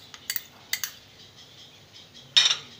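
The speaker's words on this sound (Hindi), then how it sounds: "और इसको अच्छे से मिक्स कर लेंगे, बहुत ही अच्छे से लेके मिक्स कर लेंगे।" A spoon clinks against a bowl while chana dal and onion pakora batter is mixed. There are a few sharp clinks at the start and a louder scrape-and-clink near the end, and no speech over them.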